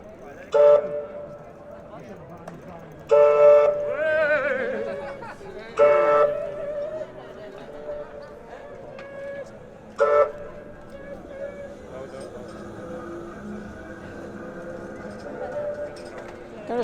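Trams stopped by protesters on a street sound loud horn toots, several separate blasts of a second or so at irregular intervals amid crowd noise and people talking.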